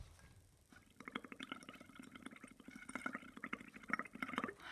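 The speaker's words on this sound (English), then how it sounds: "So you're just going to take your mouth and blow into the water." Air is blown through a straw into a bowl of water, producing a continuous burbling stream of close, soft bubbling that rises and falls for several seconds.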